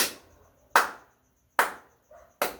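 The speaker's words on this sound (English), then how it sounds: "They start a clap," Four separate loud claps spaced widely apart, slow and deliberate, each a sharp crack with a short ring, silence between them.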